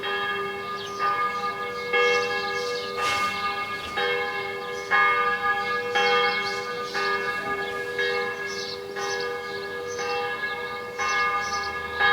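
Church bells ring out in a steady, repeated peal, each strike leaving a long, bright ringing tone that overlaps the next, loud and sustained with no voices over them.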